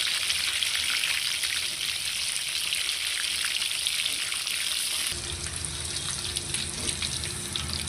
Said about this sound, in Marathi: व्यवस्थित आता तळून घ्यायचं लो गॅसवर